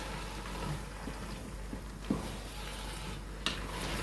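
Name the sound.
stirring avial curry with curd in a pot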